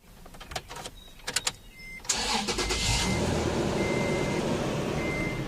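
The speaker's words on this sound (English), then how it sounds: "So let's go start the truck." A truck engine cranks and catches, then settles into a steady, close idle, with a thin tone weaving through it during work on the vehicle's AC system.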